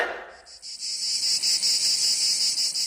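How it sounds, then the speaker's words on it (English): Cicadas buzzing loudly in a continuous high-pitched drone that pulses slightly, close by and alone after a brief lead-in. "That's the sound of cicadas,"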